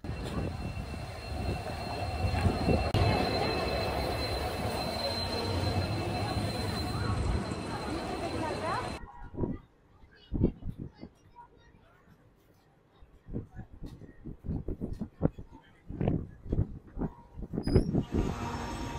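A train at Mandapam railway station in South India gives a loud, continuous rumble for about nine seconds. Quieter clanks and knocks follow, with voices in between.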